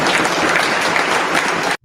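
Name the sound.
legislature members clapping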